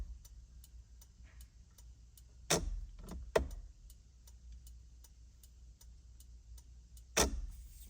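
The turn signal relay of a Nissan, converted to LED bulbs, clicks rapidly and evenly in a quiet parked car, with a few louder thumps breaking in.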